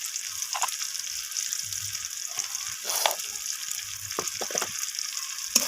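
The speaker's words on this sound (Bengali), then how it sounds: "সমস্ত কিছু মশলা আমি আলু পেঁয়াজের সাথে এইভাবে কষিয়ে নিচ্ছি।" Ground spices such as turmeric, red chilli and cumin fry with potatoes and onions in a pan. A steady, fairly quiet sizzle runs throughout, broken by a few scraping stirs, and no one speaks.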